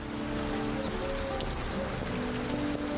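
Continuous rainfall in the Old Skies video game, a constant hiss of drops on surfaces with soft low tones humming beneath, unbroken and without voices.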